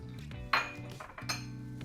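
Chopped almonds are tipped into a bowl of rolled oats, giving a sharp clink against the bowl and then a softer rattle and patter of nuts and grains, fairly close and with no talking.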